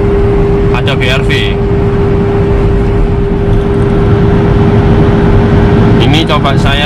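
Car cruising steadily on a toll highway at 100 km/h, a constant loud roar of road and tyre noise with a steady engine drone and faint passing whooshes, a voice speaking over it.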